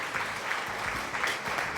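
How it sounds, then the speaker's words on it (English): A small audience claps, a brief, soft patter of hands at moderate distance that fades out within two seconds. "Thank you for clapping"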